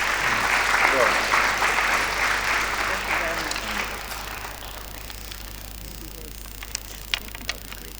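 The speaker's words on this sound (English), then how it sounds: "Let's give her a round of applause" An audience at a UNESCO hydrology program anniversary event claps for a presenter, a full round of applause that gradually thins and fades over several seconds, leaving scattered last claps.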